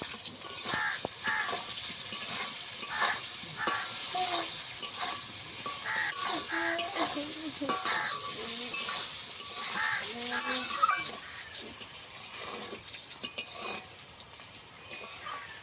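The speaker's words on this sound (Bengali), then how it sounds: "বেগুনটা আমার এইভাবে ভাজা হয়ে গেছে একদম ভালোভাবে।" Salted, turmeric-dusted brinjal fries in oil in a pan with a continuous bright sizzle and repeated spatula scrapes and taps; crows caw faintly in the background, and the frying eases off toward the end.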